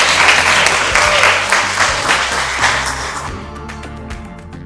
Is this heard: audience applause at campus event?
yes